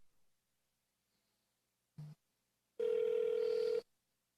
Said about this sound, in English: See, we're ringing here.